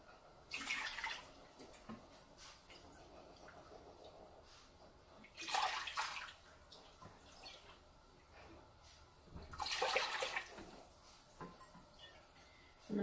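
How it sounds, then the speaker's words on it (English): Vinegar pours into a crock pot in three separate splashy bursts, each lasting about a second, with quiet gaps between and a faint background murmur. "it's going to call for 5 cups of vinegar"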